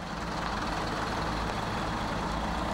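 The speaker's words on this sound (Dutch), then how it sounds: "Verschillende vrachtwagens worden meegenomen." Several trucks are driven off during a police raid at a grease-processing company in Dordrecht, their engines giving a steady, loud, broadband rumble throughout with no voices heard.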